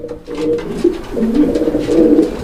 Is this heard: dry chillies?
no